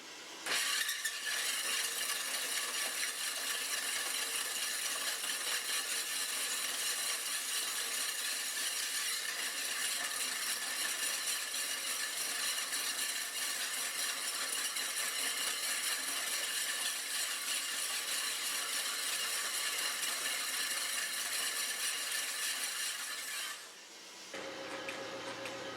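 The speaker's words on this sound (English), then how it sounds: "I can hear the saw getting into that slab I'm starting." A high-speed sphere machine saw cuts into a stone slab, giving a steady, continuous whine and grind held at even loudness for over twenty seconds before it suddenly drops away near the end.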